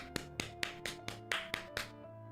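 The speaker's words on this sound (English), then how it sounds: "Round of applause for the strawberry for deceiving us for our entire lives." A short burst of about eight sharp hand claps in a steady rhythm, close and clear, with no talk.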